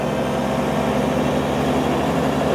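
A tractor engine runs in two-wheel drive with the steering at full lock, a steady low drone heard close and continuous with no talk.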